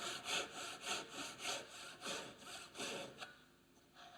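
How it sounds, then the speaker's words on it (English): A hand saw makes light strokes through wood in a homemade mitre box, about seven even rasping strokes close by, then stops and a quieter rub follows. "And with a light pass with the saw,"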